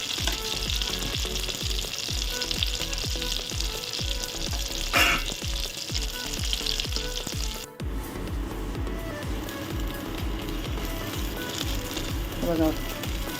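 Ground black masala paste sizzling and frying in a pan for a mutton gravy, a steady close crackle with repeated stirring scrapes and a brief splattery burst, while a voice talks over it.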